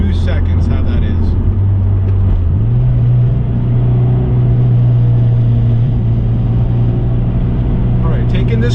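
An Acura RSX with a newly fitted Acuity shifter accelerates at wide open throttle. Its loud, close engine drone steps up in pitch partway through, then holds a steady, strong hum.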